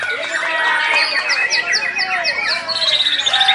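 Borneo white-rumped shamas (murai batu) singing in the Murai Batu Open B class of a bird-song competition, loud, continuous, varied whistles and rapid chirping phrases from close by, with several birds overlapping.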